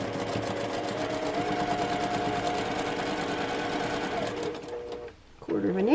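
A sewing machine runs steadily while stitching a quarter-inch seam on a quilt block, a close, continuous mechanical whir that slows and stops near the end, followed by a brief sound afterward.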